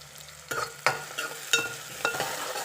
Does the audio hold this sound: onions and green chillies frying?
yes